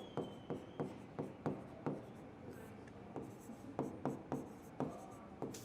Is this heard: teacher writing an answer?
yes